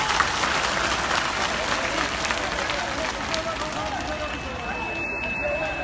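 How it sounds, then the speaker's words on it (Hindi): Applause from an audience at a political gathering, a steady wash of clapping at moderate distance, fairly faint and continuous, with murmuring voices underneath. "तो एक बार पासवान जी के लिए जोरदार तालियां बजा देंगे आप सब लोग"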